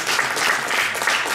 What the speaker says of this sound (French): on peut les applaudir, c'est bien